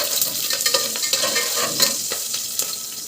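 Chili and whole garam masala frying in oil and ghee, a steady close hiss and crackle with small stirring scrapes running throughout.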